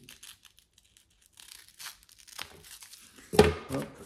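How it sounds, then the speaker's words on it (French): Scissors snip through self-adhesive hook and loop tape, with faint rustling and handling before one sharp, close, crisp cut near the end, followed by a short crinkle. "Ça se coupe avec des ciseaux tout bêtes. Je vais couper un bout."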